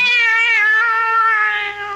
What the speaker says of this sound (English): Why, you're purring, aren't you?